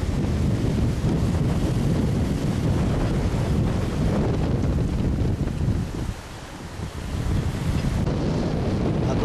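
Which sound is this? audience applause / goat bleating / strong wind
strong wind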